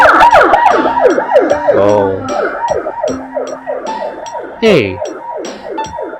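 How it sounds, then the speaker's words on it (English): An ambulance siren wails close by on a city street, rapid rising-falling sweeps repeating loudly with shifting tones and a brief horn-like blast, while a rider on a motorcycle briefly speaks. "We got ambulance."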